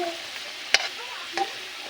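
Potatoes frying in oil in a wok give a steady, quiet broadband sizzle, with two brief sharp clinks or stirring scrapes breaking through partway. No one speaks.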